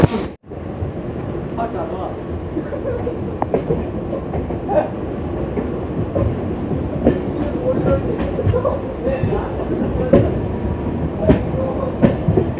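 A Purulia–Howrah MEMU train on its inaugural run via Masagram rumbles loudly along the rails as it takes a curve onto the Howrah–Bardhaman chord line, with a continuous wheel roar and scattered clicks and clacks as a voice talks over it.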